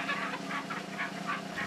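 Hens clucking nearby in a rapid, rhythmic run of short calls. The calls are fairly loud and steady, with no talking.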